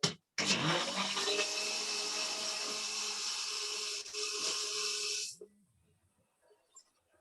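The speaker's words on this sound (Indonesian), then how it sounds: "Blender." A blender whirs loudly and steadily for about five seconds while mixing a tiramisu-flavoured shake, then cuts off, leaving faint murmurs in a quiet room.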